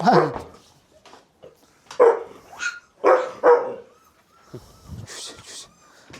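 A few loud, close barks from Volkodav dogs come in irregular bursts, separated by quieter pauses, with a voice or two mixed in.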